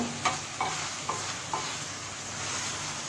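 Mutton karahi being mixed in a pan, with four short scraping stirs spaced about half a second apart over a steady low sizzle, heard close up with no voices.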